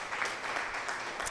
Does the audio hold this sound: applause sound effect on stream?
yes